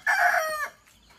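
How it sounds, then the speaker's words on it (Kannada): A single rooster crows once, loud and close, a short bright call that cuts off quickly into quiet. "ನಮ್ಮ ಕೋಳಿ ಗುಡ್ ಮಾರ್ನಿಂಗ್ ಹೇಳ್ತಾ ಇದೆ"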